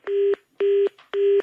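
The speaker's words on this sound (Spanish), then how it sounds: "¡Soquito Loki, corta el teléfono!" Three steady electronic beeps on a telephone line during a prank call, each about a quarter second long and evenly spaced, clear and close with nothing under them.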